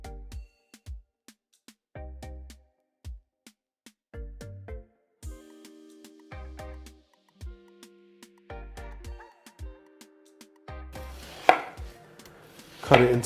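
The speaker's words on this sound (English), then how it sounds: "now we're going to peel the watermelon." A knife peeling and cutting a watermelon on a board, a series of sharp chops and thuds in an uneven rhythm, close and clear with no talk, ending in rougher scraping cuts.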